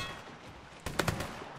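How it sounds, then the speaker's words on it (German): Two quick video-game gunshots from Mafia III ring out over a quiet background hum, somewhat distant and short. "Zwei Schüsse."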